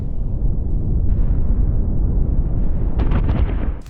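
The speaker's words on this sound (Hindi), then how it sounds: "कितना जबरदस्त विस्फोट है ये।" Huge explosion at a weapons depot in Idlib, Syria, a sustained deep rumbling roar that fills the whole clip, with sharper crackling bursts near the end.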